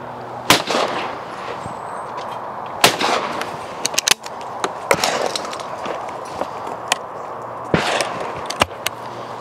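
Shotgun shots ring out at clay targets, likely from a lightweight Beretta game gun, as several sharp, loud reports spaced irregularly with faint background noise between them.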